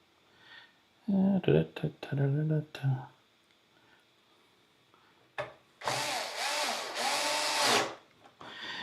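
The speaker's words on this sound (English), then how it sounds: "And I do have this on low torque setting. I just don't want to strip any screws." A power drill on a low torque setting driving screws during a Bambu P1P to P1S 3D printer upgrade, two bursts of whirring, the second longer and louder, after a stretch of talk.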